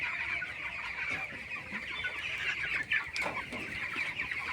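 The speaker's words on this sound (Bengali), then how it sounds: "মুরগিগুলো ছুটতেছে, তাদেরকে ধরতেছে।" Chickens scatter and cluck as they are caught for vaccination, a continuous agitated clucking and squawking from several birds at close range, with a sharp louder squawk near the end.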